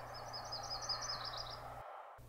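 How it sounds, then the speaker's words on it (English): A small yellow-rumped warbler sings a quick run of high, thin chirping notes in a steady rapid trill for about a second and a half, faint against a low outdoor background hum, then stops. "I saw a little yellow-rumped warbler sing"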